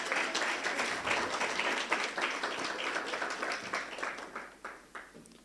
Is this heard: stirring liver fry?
no